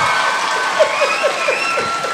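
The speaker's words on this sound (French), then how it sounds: "Applaudissez-vous tout le monde." Studio audience clapping at a live comedy taping, a continuous dense patter with a few sharper claps standing out, while a voice carries along underneath.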